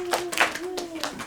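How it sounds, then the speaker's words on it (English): A small group of children clapping briefly, light scattered claps over a voice talking. "So give yourself a big round of applause."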